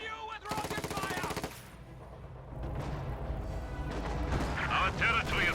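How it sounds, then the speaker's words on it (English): Rocket artillery fire in a World War II strategy game, a dense burst of rapid launches followed by rolling explosions and rumbling battle noise, loud and continuous under game sounds. "Continue with rocket fire."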